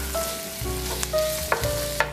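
Fish fillet and tofu sautéing in a pan, giving a steady close sizzle with a few light clinks from the spatula.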